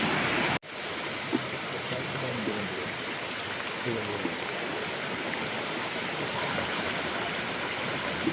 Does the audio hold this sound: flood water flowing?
yes